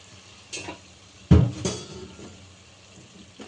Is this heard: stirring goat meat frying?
yes